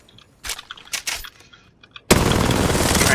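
Apex Legends gunfire: a few scattered clicks and single shots, then a sudden sustained burst of rapid automatic fire that stays loud and dense to the end.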